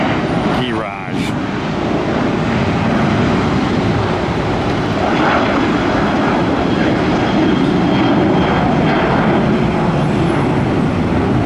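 Airliner on flight 1742 at Tampa airport, heard from the top level of a parking garage as a loud, steady broadband engine roar that holds throughout, with a brief disturbance near the start.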